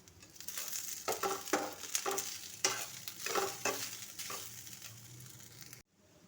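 Basmati rice being fried and stirred in a pan for kanika, a Jagannath Rath Yatra offering: steady sizzling with repeated scraping, stirring strokes, close and moderately loud, ending with a brief silence.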